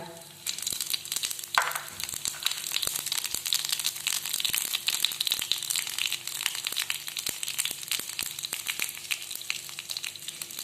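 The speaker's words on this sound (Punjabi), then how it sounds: "ਘਿਓ ਗਰਮ ਹੋ ਗਿਆ ਜੀ ਹੁਣ ਆਪਾਂ ਇਸ ਵਿੱਚ ਪਾ ਦਾਂਗੇ ਇੱਕ ਚਮਚ ਜੀਰਾ" A spoonful of cumin seeds sizzles in hot ghee, a close, continuous crackle with dense popping and spitting that holds steady after the seeds drop into the fat.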